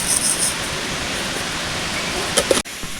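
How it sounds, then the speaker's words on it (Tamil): Mustard seeds splutter in hot cooking oil in a kadai, a close, dense, steady crackling sizzle that carries on throughout with a few sharper pops near the end. "கடுகு பொரிஞ்சிச்சுங்க."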